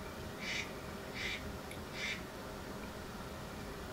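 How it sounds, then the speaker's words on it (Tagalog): A duck quacks three times in short, evenly spaced bursts over a steady background hum, heard in a kitchen while igado is being cooked. "At may tumunog pang pato."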